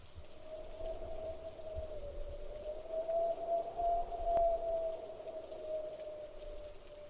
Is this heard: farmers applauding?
no